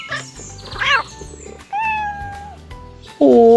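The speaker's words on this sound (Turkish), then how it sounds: "Bu kedi sesi mi?" A cat stuck on a roof meows a few times, clear and fairly close, with a soft musical background running underneath.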